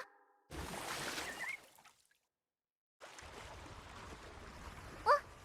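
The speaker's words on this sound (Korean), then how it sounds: "엄청 높은 폭포." Waterfall in the video game Wuthering Waves: a steady rushing of falling water that cuts to silence partway through, then returns at a softer level with a brief bright chime near the end.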